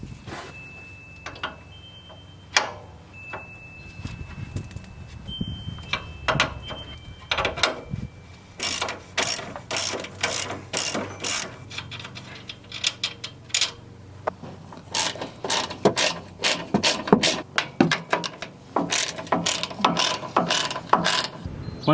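Ratchet clicking away at the fasteners while an old front strut is pulled from a Toyota Tacoma, starting with scattered clunks and scrapes, then long runs of rapid close ratchet clicks, with no talking.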